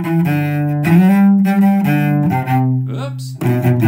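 Cello in a folk fiddle-tune setting playing a run of ornament notes up from an open string through the key, clear, close and alone, with sustained bowed tones and short note changes.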